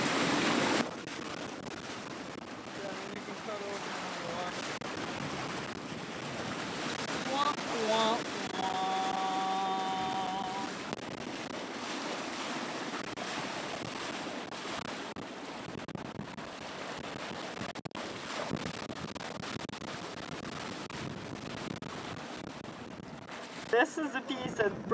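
Big waves and wind churn around a sailboat under way with a dinghy dragging behind, a steady broad wash of water and gusts that swells slightly at times, with voices talking faintly over it.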